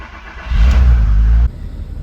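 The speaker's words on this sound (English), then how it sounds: "So first up, start the engine." Audi TT mk1 with the 3.2 V6 engine cranks and catches, giving a loud close burst that settles abruptly into a lower, steady idle.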